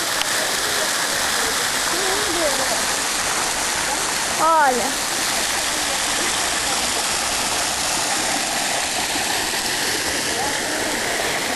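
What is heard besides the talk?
waterfall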